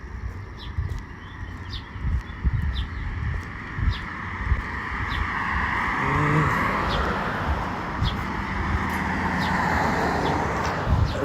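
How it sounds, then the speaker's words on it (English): A car approaches along a street and passes close by, its rising engine and tire swell building after a stretch of footsteps and wind, with faint birds in the background. "And the car's coming up behind me. It's gonna drive by me when I get across the street."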